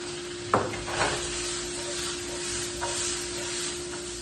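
Eggplant and garlic stir-fry over heat with a steady sizzle and hiss, broken by a couple of louder scrapes and clatters from stirring in the pan near the start. The sizzling carries on evenly, and no one speaks.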